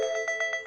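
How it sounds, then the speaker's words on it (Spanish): A doorbell rings in a quick series of bright, repeating electronic tones over a sustained ringing hum, moderately loud and heard alone. "el timbre de alguien sonó"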